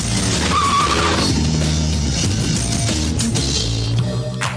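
A loud motorcycle engine roars as the bike pulls away, with tires squealing and skidding throughout, close and continuous, in a film scene.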